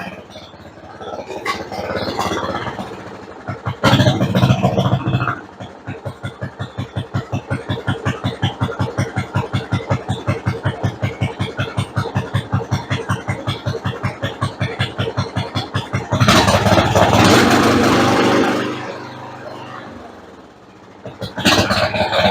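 A Craftsman lawn tractor, stored for many years, cranks and its engine catches, then runs with a loud, steady pulsing idle for about ten seconds before revving up, with brief bursts of noise at start and end.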